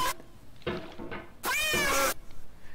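Meows from a Minecraft cat in a video game: a few short meows followed by a longer, louder drawn-out meow, close and clear with no talking.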